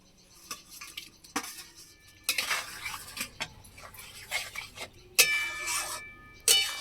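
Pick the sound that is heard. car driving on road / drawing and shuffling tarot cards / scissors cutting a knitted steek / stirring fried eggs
stirring fried eggs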